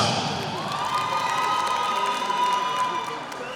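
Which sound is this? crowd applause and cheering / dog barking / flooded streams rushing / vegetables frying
crowd applause and cheering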